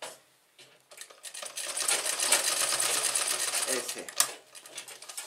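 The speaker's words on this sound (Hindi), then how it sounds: "यहाँ एक सिलाई दीजिए पूरा लंबा जितना पर्दा है।" A sewing machine runs a long, steady line of stitches along the length of a curtain, a continuous close mechanical whir that starts after a brief pause, with a short spoken word near the end.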